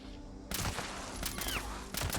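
Gunfire in Fallout 76 near Morgantown Airport cracks out in a few quick, fairly quiet bursts of shots against a low game ambience.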